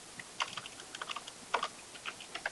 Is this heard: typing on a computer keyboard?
yes